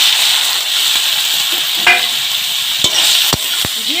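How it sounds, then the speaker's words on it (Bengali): Cabbage stir-frying in hot oil with dry chili and bay leaf gives a constant bright sizzle, broken by several sharp clinks and scrapes of a spatula against the pan, no talking. "দিয়ে আমি আর কিছুক্ষণ এভাবে নাড়াচাড়া করে রান্না করে নিব"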